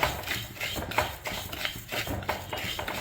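Raw rice roasting in a hot pan for sharkkara varatti, stirred with a metal spoon that scrapes and clinks against the pan in steady repeated strokes, close and moderately loud with no talking.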